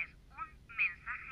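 Short electronic telephone beeps from a blinking answering-machine phone in the first-person shooter F.E.A.R., a few tonal chirps in quick succession, fairly faint over low game ambience.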